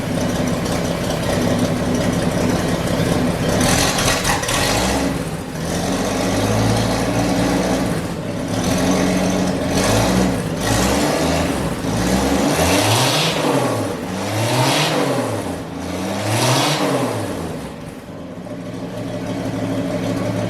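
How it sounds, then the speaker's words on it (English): A rat rod engine with an unmuffled exhaust idles loudly up close, then revs repeatedly in sharp rising and falling bursts, raw and throaty with no talk. "Let's give it a rev."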